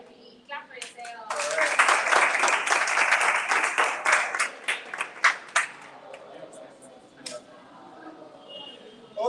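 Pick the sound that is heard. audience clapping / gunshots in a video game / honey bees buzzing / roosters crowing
audience clapping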